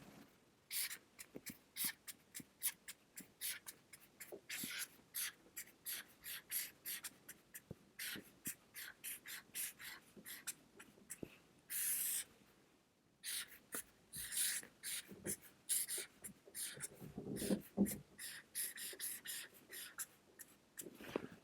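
A pen or marker scratches out a formula by hand in brisk strokes, with short pauses between words and one longer break midway, close and clear with no talking.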